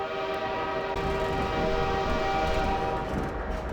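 Train in the Half-Life 2 video game, a steady rumbling rail ride with a sustained horn-like tonal drone throughout, fairly loud and continuous with no talk.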